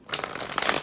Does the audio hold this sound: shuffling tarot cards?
yes